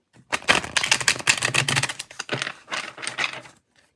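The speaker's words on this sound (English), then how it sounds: "I like to give it a really clean shuffle afterwards too" Rapid papery riffling and snapping of tarot cards being shuffled, dense bursts for a few seconds with brief pauses, close and fairly loud.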